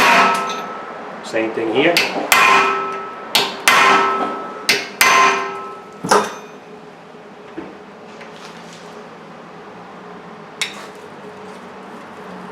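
A hammer strikes a driver set against brake bolts on a 2012–2019 Honda Accord, sharp metallic clanks in a quick series of about eight hits, then a few scattered taps; someone speaks briefly.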